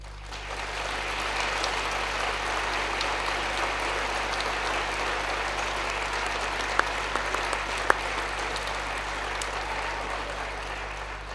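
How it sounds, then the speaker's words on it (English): A large graduation audience at a Milton Keynes degree ceremony gives long, steady applause, a dense even wash of clapping in a big hall with a constant low hum underneath and a couple of sharp louder claps. "they are especially deserving of huge applause"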